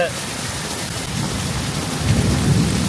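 Dense, heavy rain hisses outdoors in a residential area while deep thunder rumbles and swells toward the end.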